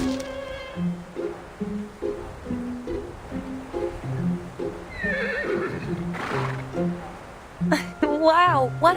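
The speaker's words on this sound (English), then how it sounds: "Sounds like a horse to me." A horse in the video game Reverse: 1999 gives a loud whinny near a windmill, following a rhythmic clip-clop of hooves, with game voices and music around it.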